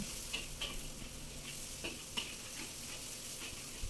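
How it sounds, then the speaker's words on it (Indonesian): Chopped onion and garlic sauté in a pan for nasi kebuli with a steady soft sizzle, and a utensil scrapes and taps the pan now and then, close by with no talk. "Kita tumis sampai berbau harum."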